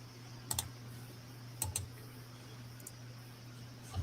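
Keys clicking on a computer keyboard, a few sparse sharp taps in small clusters over a low steady electrical hum, quiet and nearby, with no talk.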